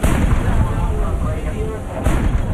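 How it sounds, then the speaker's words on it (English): Naval gunboats firing their guns during a sea battle, a dense, continuous rumble of booming gunfire with a sharper burst near the end, loud and layered with faint voices underneath. "The gunboats are now shooting back, but their fire is falling well short."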